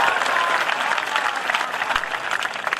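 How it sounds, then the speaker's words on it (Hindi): An audience at a Hindi comic poetry recital claps in sustained applause, a dense crackle of many hands, fairly close and steady for the whole moment, with a faint crowd murmur beneath. "ताली बजाना"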